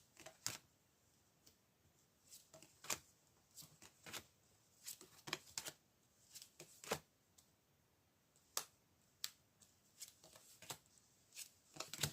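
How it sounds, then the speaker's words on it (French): Tarot cards shuffled and drawn, producing a quiet series of crisp flicks and snaps at an irregular pace, close and faint, with no talking. "on peut essayer de tirer des cartes sur le masque ici pour en apprendre un peu plus"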